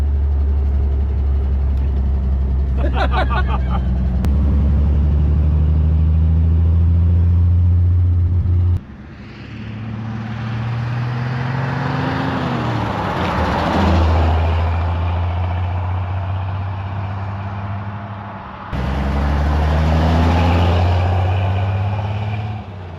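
A 1960 Chevy Bel Air, long forgotten and just rescued, being driven with a deep steady engine rumble that rises and falls through gear changes, loud and close, with brief breaks where the drone cuts out.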